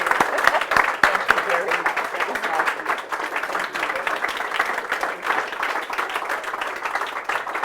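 Audience applause at a Startup Grind Melbourne event, a dense, fairly loud wash of clapping sustained for several seconds with distinct sharp claps near the start, then gradually thinning.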